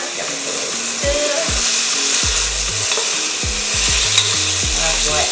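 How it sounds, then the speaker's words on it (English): Breadfruit being stirred into a sizzling seafood cook-down, with a steady frying hiss under repeated scraping strokes of a spoon against the pot and a low background hum. "Give it a little stir."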